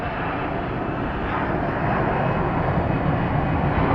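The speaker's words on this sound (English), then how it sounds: "That is the plane you're hearing." An Airbus A320 jet airliner departs Phoenix Sky Harbor International Airport, a loud continuous broadband engine roar that holds steady and swells slightly, heard outdoors from fairly close with no speech.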